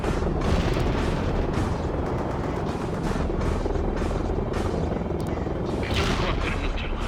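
A helicopter's steady rotor thrum fills a World in Conflict battle, layered with booms and gunfire throughout.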